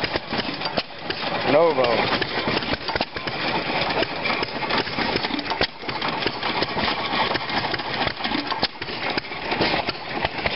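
A New Holland hit-and-miss engine runs at an antique machinery show in Bowers, Pennsylvania, its steady mechanical chugging heard close under crowd noise and nearby talk.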